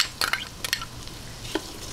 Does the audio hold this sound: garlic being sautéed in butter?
yes